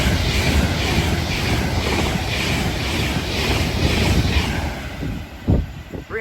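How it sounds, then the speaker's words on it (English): A Class 390 Pendolino electric train bound for London Euston passes at Watford Junction on the West Coast Main Line, a loud steady roar of rolling stock held throughout, with a few sharp clattering knocks near the end. "passing by now is going to be a Class 390 Pendolino bound for London Euston"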